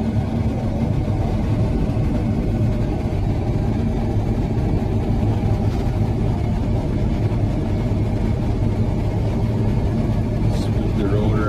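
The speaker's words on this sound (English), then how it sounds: "Fire the combine up here and see how she runs." A 2017 John Deere S670 combine harvester's engine runs steadily throughout, a dense, continuous low rumble close by at high throttle with no clear pauses or speech.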